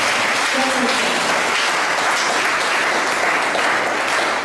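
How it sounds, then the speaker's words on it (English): Audience at a Ghanaian community gathering in Tripoli, Libya, applauding the Ambassador of the Republic of Ghana: loud, sustained clapping from a crowd, dense and continuous throughout. "His Most Excellency, the Ambassador of the Republic of Ghana, a round of applause"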